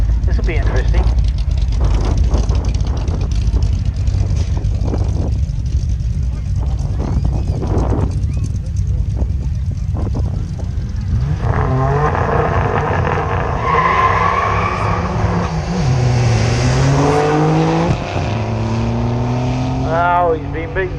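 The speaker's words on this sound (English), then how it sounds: "He's up against Ryan Ward's Mitsubishi GTO" A twin-turbo Mitsubishi GTO launches at a drag strip: engine revs rise and rasp under a commentator's talk, building into a strained, climbing roar near the end against crowd and track noise.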